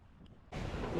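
Wind gusting across a sailboat deck while moored in Amsterdam, starting quiet and then rising abruptly into a steady broadband rush that builds toward the end.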